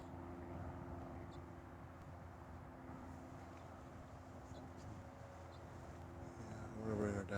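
Fixed-wing airplane passing overhead near an airport in Livermore, California, a steady faint engine drone with a DJI Phantom 3 drone's whine rising near the end.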